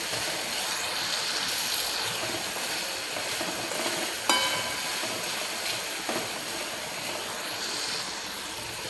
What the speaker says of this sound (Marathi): इथे आपल्याला बटाट्याचे जे फोडी आहेत ते 4 ते 5 मिनिटं असे छान परतून घ्यायचे आहेत